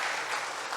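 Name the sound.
applause from church congregation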